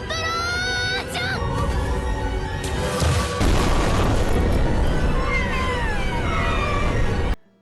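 A magical explosion effect from a Konosuba anime scene with the magician Megumin: loud rumbling blast with a rushing roar and ringing tones that sustains for several seconds, then cuts off abruptly.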